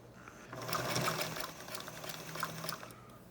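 Sewing machine stitching around the darted corners of a fabric bowl cozy in a short close burst, rising quickly then running at a steady rattle for a few seconds.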